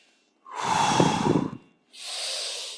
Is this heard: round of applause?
no